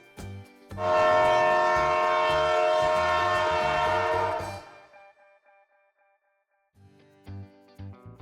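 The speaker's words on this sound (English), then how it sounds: "Train." A train on the tracks sounds a long, loud horn blast over a rhythmic clatter of wheels. The horn cuts off and leaves a gap of near silence before the clattering wheels return.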